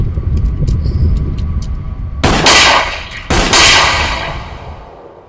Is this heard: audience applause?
no